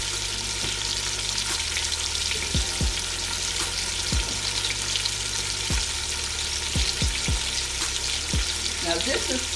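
Bone-in, skin-on meat browning in a hot pan, a steady dense sizzle and crackle throughout, with occasional soft pops and light stirring knocks up close.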